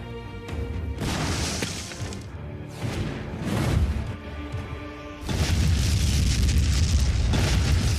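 Grenade blasts and battlefield destruction in a World War II combat film set in the Hürtgen Forest, heavy booming explosions with crashing debris, loud and sustained with a second big roar near the end, no talk.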